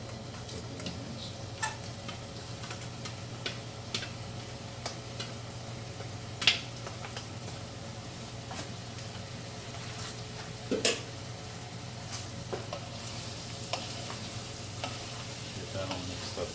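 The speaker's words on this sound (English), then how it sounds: "I'm going to go in and add my ground beef, get that fried up a little bit with the onions" Ground beef and onions fry in a pan for meat spaghetti, a steady low sizzle punctuated by small ticking spatula taps and occasional louder scrapes.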